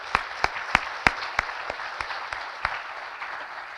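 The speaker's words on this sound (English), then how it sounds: "Let's give them a round of applause really quickly." A few scattered, sparse claps ring out at an integration forum, distinct individual hand claps that thin out and fade over a few seconds.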